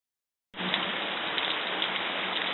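Rain pours down outdoors during a test of waterproof gear, starting abruptly after a brief silence and then holding as a steady, dense hiss of drops hitting surfaces close by, with no voices.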